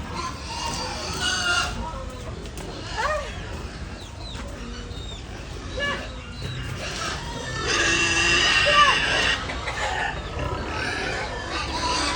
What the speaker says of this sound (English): Chicken after a bit of corn.